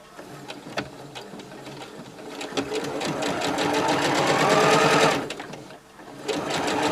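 A sewing machine stitches along the edge of fabric with a steady, rapid rattle that builds in speed and loudness, briefly dips, then picks up again, heard up close.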